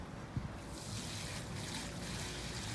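Collected rainwater pours from a bucket onto a potted plant on a patio, a steady close splashing trickle that starts after a brief quiet moment and continues evenly to the end.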